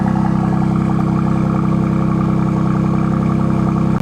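A BMW M2 CS engine idles steadily with a deep, even rumble and faint whir, close by and unbroken for several seconds.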